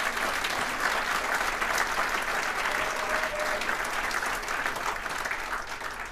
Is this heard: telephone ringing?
no